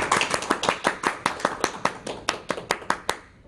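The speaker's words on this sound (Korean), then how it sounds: "박수로 맞아주시기 바랍니다" Seminar audience clapping to welcome a patent attorney speaker at a startup patent strategy lecture, a small group giving sharp, evenly spaced claps that fade slightly toward the end.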